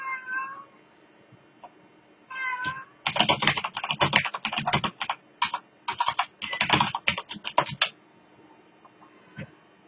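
A cat meows twice near the start, then rapid computer keyboard typing clatters in bursts for several seconds.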